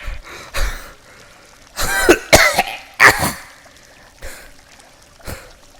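Wet, gurgling coughs and throat clearing come in several harsh bursts, close by, with short pauses between them.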